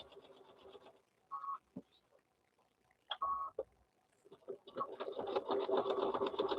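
A sewing machine stitches around a quilt block made from cut t-shirt fabric, running in short bursts with pauses, then a longer steady whir at the end, close and moderately loud.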